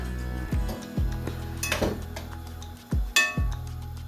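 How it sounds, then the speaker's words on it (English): A spoon knocks and scrapes against a pot while spinach is stirred into kidney beans and chickpeas, giving a handful of distinct clinks and thuds in an irregular rhythm, close and fairly loud, no talk. "Stir that in."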